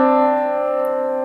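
A musical interval of a second, two adjacent pitches sounding together as a sustained, steady tone that holds for about a second with no pauses.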